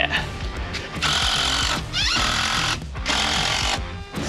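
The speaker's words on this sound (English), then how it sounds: "I'm gonna sand it using some random sandpaper I found." Hand sanding of a wooden steering beam with sandpaper, a harsh scratchy rasping in several long back-and-forth strokes with short pauses between them, heard close up with some background noise.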